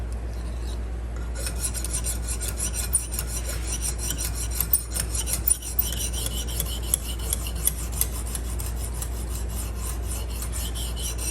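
Knife blade drawn repeatedly across the fine grit hone of a Lansky sharpening system, a steady close raspy scraping in quick strokes that begins after a quiet second, with no speech.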